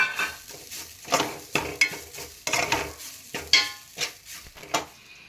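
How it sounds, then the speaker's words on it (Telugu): Coconut is stirred and fried in a pan for ragi laddus, giving a run of close scraping, clattering stirring strokes over a light sizzle, repeated in an uneven rhythm without talk. "ఈ కొబ్బరి వేసి కూడా మనం లైట్గా మంచిగా పచ్చి స్మెల్ పోయే వరకు వేయించుకోవాలన్నమాట."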